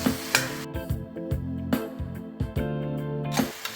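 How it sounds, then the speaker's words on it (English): Worcestershire sauce, ketchup and tomato paste are stirred into a beef and sweet potato stew. A spoon knocks and scrapes in a rhythmic pattern against the pot, close and moderately loud, over a soft sizzle. "Give that a little bit of a stir around."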